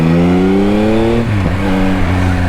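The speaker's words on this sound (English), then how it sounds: "I don't know why you would change the exhaust, because this sounds tuned to perfection." A 2024 Yamaha XSR900 motorcycle, loud and close, holds a steady high-revving drone, then drops in pitch and settles to a lower rumble, with a raspy exhaust tone.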